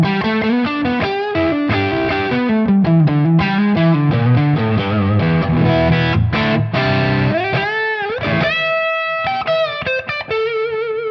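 Electric guitar on the neck pickup runs through a Tonex pedal, a distorted tone with chorus and effects, playing a continuous melodic line of sustained notes and bends, loud and alone.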